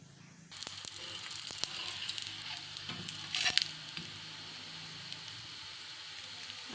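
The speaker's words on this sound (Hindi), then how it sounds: "तो इसको हमने तवे पे डाल दिया है 2 मिनट के लिए। हम एक साइड से पकाएंगे इसको।" Maize flour roti sizzling steadily on a hot tawa griddle, with a close, continuous crackling hiss and a few brief scrapes, no talking.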